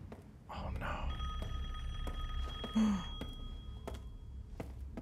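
A telephone rings inside a dim house in the horror game Resident Evil Village, a steady electronic bell tone held for a couple of seconds over low ambient rumble and scattered faint thumps, with a soft voice in the background.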